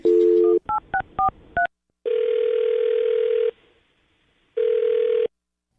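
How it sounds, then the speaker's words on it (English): A telephone number is dialed: a dial tone, then a quick run of distinct keypad tones, followed by steady ringback tones separated by a pause of silence. "I'm going to dial his phone number right now"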